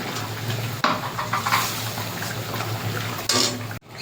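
Water from a rinsed spice bowl pouring into a pan of poppy seed and mustard paste for prawn malaikari, a steady close splashing with a couple of brief louder gushes and a clink of the bowl.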